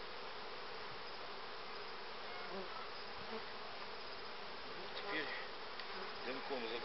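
A dense, steady buzz of many honey bees swarming close by at a hive frame, continuous throughout with no voices.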